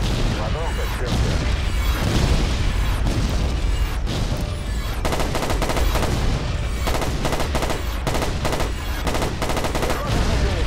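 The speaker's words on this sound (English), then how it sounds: "Hopefully this artillery strike will get him." Artillery explosions and gunfire from a Battlefield 2142 multiplayer match sound as dense, loud, continuous booms and crackling bursts, with sharp repeated impacts layered over a heavy rumbling background.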